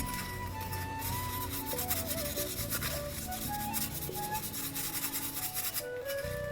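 Scrubbing by hand in a home kitchen: continuous, close rasping rub strokes with a gritty, even texture, over faint tonal background sound and no talking.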